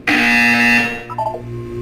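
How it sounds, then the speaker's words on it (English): A loud electronic buzzer in the video game Portal 2 blares once in a sustained harsh tone for under a second, then cuts off and leaves faint tonal background. "You will hear a buzzer."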